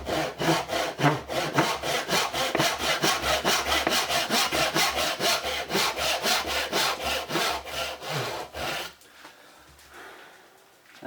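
A hand saw cuts through wood for a brewing mash paddle. Close, rhythmic back-and-forth strokes repeat steadily for about nine seconds, then stop.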